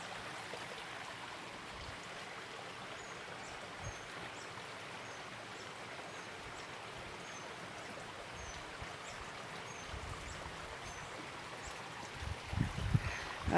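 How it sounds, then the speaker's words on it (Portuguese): A stream and waterfall at Cachoeira do Sagui in Embu Guaçu give off a steady broadband rush of flowing water with faint bird calls, and a few close handling thumps come in near the end. "eu tô muito perto da cachoeira agora"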